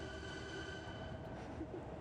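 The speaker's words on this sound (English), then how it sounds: "I'll wait for this train to go by." A train passes by outdoors with a steady, continuous rail rumble and faint tonal whine throughout, fairly distant and moderately quiet, with no talking.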